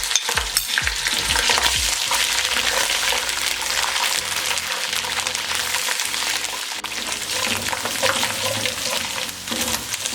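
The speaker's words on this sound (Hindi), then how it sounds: "अब इसमें अदरक लहसुन का पेस्ट डालेंगे और 1 मिनट के लिए इसे भी" Ginger garlic paste fries loudly in hot oil with golden fried onions for a restaurant-style chicken korma, a dense continuous sizzle broken by a few stirring scrapes close up and no talk.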